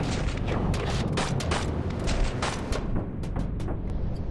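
Dense, rumbling explosions and crackling blasts roll on continuously inside a warship in a video game, a chaotic barrage of booms with no voices.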